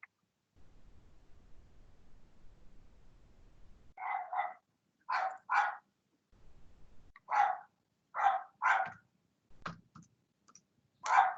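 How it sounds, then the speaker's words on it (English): Small yappy dog barking in a yard, sharp bursts in irregular pairs and singles after a stretch of low background hum, fairly distant and faint. "I have a yappy dog in the yard."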